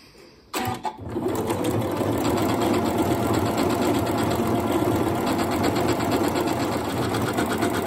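A Janome Horizon Memory Craft 9480 QC Professional sewing machine stitches a decorative sampler. After a brief knock it starts up and then hums in a loud, steady, continuous whir of rapid needle strokes.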